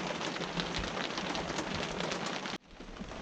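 Steady rain falls, a dense, even wash of drops on a surface that cuts off sharply near the end before resuming more softly; no voices.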